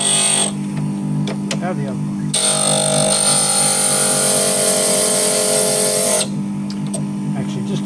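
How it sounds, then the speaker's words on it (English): A glass grinder with a guide squares the edges of a fused glass pendant, a loud, shrill whining grind lasting about four seconds in the middle, with quieter motor hum and brief speech before and after. "Now I've set up my grinder with a guide on here."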